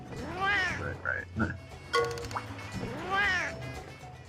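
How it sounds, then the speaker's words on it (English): A cartoonish cat in the Monster Hunter Tri video game gives two rising-and-falling meows, one at the start and one near the end, with game chimes and a voice heard between them. "And the cat's talking about beverages."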